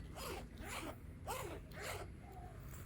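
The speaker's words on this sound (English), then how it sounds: "the zippers here are nice and smooth" A zipper on a waterproof-material bag is drawn open and closed in several quick, smooth rasping strokes, close up and fairly quiet, with no talking.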